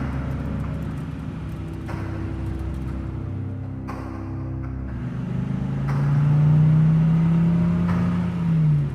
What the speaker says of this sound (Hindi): आलोक भी अपनी जीप को लेकर बाबा के बाइक के पीछे पीछे चला जाता है।